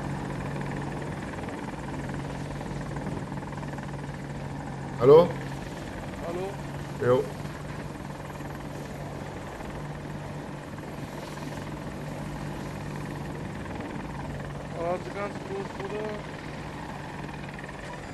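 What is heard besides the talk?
AH-64 Apache helicopter in video game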